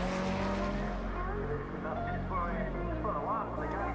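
Stephen Jeffries' Class D hillclimb race car accelerating hard uphill out of a corner, a loud continuous engine roar with rising pitch and a busy tonal texture, over mixed sounds of the event and with no clear gaps throughout.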